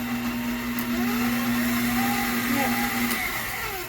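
A blender mixes dry ingredients for keto sourdough rolls, whirring loudly and continuously at close range, with a voice speaking briefly over it.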